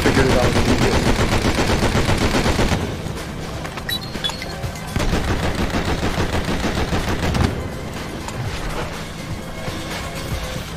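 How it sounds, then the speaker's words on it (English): Rapid bursts of automatic gunfire crackle loudly and almost without pause in the 2003 Shiny Entertainment game Enter the Matrix, with dense volleys that ease slightly partway through before surging again. "We need to wait till he shoots and then we'll stop shooting."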